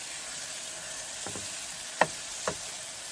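An onion omelette frying in a pan inside a campervan hisses with a steady sizzle, and a few sharp utensil taps come as the mixture is stirred. No one speaks.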